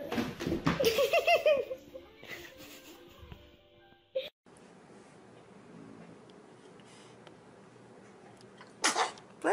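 A baby sneezes once, sharp and brief, after a few seconds of babbling and squeals, followed by steady low background noise and another short burst near the end.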